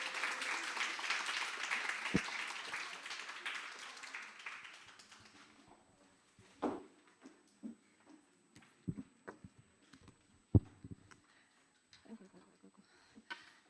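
Audience applause welcoming a speaker onto the stage: a full burst of clapping from a crowd for about five seconds, then fading into scattered taps and small knocks with a few faint voices.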